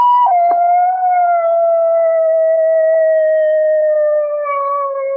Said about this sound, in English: that's a neighbor's dog, Mr. Hitchford.